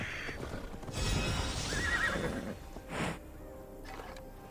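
A horse in Assassin's Creed Valhalla gives a loud, drawn-out whinny over clip-clopping hooves and battle noise, followed by a shorter snort, with no voices over it.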